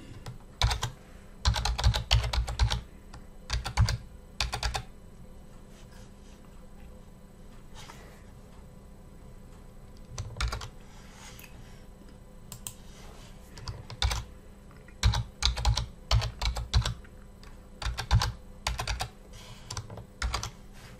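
Password typed on a computer keyboard, crisp close keystrokes in quick clusters separated by pauses of near silence over a steady low hum.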